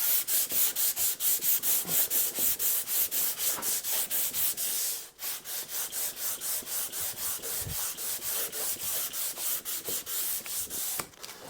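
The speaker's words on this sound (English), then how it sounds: "I'm trying to put all the pressure on the front end of this block, so I'm not catching it with the 120 grit" Hand sanding wood on a Telecaster guitar body with 120 grit sandpaper wrapped on a block, steady rhythmic rasping strokes back and forth, close and fairly quiet, with a brief pause midway.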